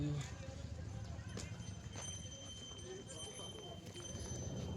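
Horse hooves clip-clop steadily amid a busy outdoor din on the way to Muktinath, Nepal, with children riding, voices chattering throughout and a faint whinny-like call.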